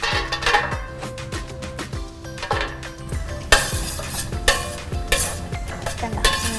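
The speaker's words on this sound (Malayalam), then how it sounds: "ഇങ്ങനെ നമ്മൾ വറുത്തെടുക്കണം" Stirring and frying in hot ghee for kuttipayasam, a Vishu festival sweet, with a steady sizzle broken by repeated clinks and scrapes of a spoon against the pan, close up and fairly loud.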